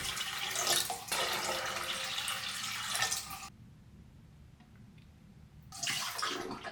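Water pours steadily into a homemade fish tank built from an old TV set, a loud rushing fill that cuts out briefly mid-clip before resuming.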